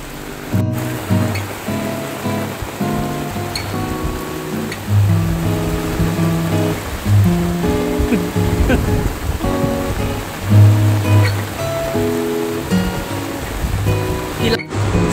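A rain-swollen river in flood rushes and churns in a steady, loud roar that never lets up, with a few faint voices mixed into the noise.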